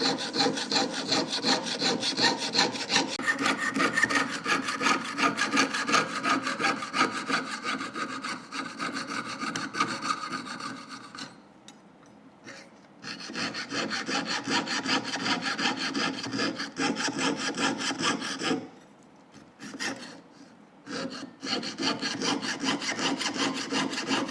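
A jeweler's piercing saw rasps through metal in a jewelry-making studio, its fast, steady back-and-forth strokes running almost continuously with a few short pauses as the cut turns.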